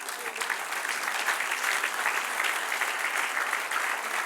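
A church congregation gives sustained, even applause from a crowd of many clapping hands. It stays full and steady throughout and fills the room without any speech on top.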